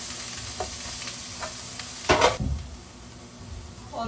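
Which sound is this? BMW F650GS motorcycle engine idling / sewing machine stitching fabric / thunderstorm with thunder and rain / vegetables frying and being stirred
vegetables frying and being stirred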